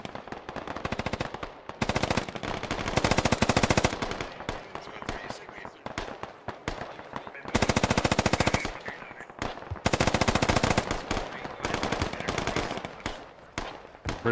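Bursts of automatic gunfire trade back and forth in the video game Squad, several long rattling volleys at close to mid range, separated by brief lulls, with scattered single shots in between.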